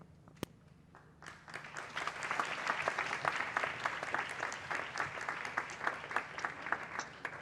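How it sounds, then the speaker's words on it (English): Applause from a conference audience at an online political summit, a steady wash of many hands clapping that swells after a brief quiet start and holds, fairly faint and without talk. "Please help me give a warm applause to the Right Honourable Theresa Villiers."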